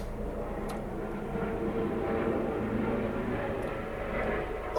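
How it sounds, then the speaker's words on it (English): A police helicopter hovers overhead outside a cathedral, its steady engine and rotor drone filling the background evenly throughout with no break. "The police helicopter hovering overhead."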